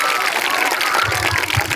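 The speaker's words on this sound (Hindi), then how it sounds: "घोड़ों के लिए एक बार जोरदार तालियां इतने मेंटेन करने के लिए" Applause from a theatre audience for the performers who played horses in a staged folk play, a dense, steady wash of clapping filling the whole moment at close range.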